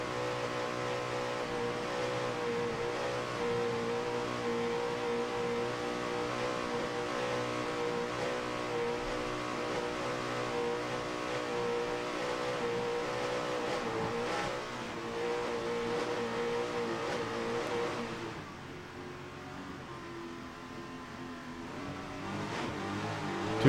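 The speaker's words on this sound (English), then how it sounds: "Two big Bandit racing engines power Team Warpaint." Two Bandit racing engines on a Michael Peters designed Apache catamaran race boat at the 2007 Key West World Championships, a steady droning engine roar held throughout that dips and fades slightly near the end.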